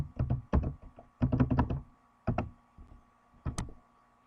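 Computer keys are pressed in short irregular bursts while typing in a spreadsheet program, with clusters of firm clicks separated by brief pauses and no talking.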